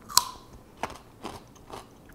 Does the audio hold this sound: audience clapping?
no